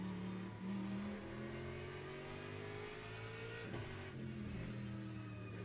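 An Aston Martin race car in Le Mans Ultimate at Spa, its engine note rising steadily under throttle through the gears with a couple of brief shift dips, a close, continuous mid-pitched drone with no voices.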